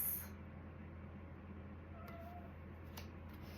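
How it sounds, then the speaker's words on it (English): A domestic cat lets out a faint, short meow indoors, followed by a quieter chirp against a low steady background hum. "It's my cat. She wants to chime in on the message here."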